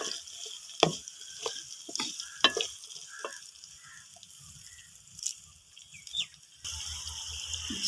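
Spices, peas and potatoes being stirred in a frying pan for a village-style potato and drumstick curry, with intermittent scraping strokes over a steady sizzle and a brief watery splash near the end.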